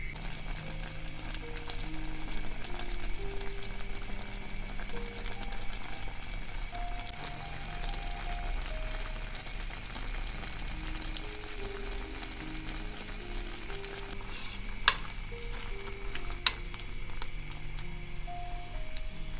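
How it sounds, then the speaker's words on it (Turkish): Apple jam at a boil in a pot on the stove gives off a steady soft bubbling and simmer, continuous and fairly quiet throughout, with two brief sharp clicks late on and no talking. "Reçelimiz kaynamaya başladı."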